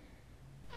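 A small cat gives a brief, faint meow right at the end after a stretch of near-quiet room tone.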